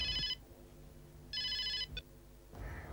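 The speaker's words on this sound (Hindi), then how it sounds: "शायद सिद्धार्थ का ही फोन हो।" A phone ringtone chirps in short electronic bursts separated by pauses, moderately quiet against a low room hum.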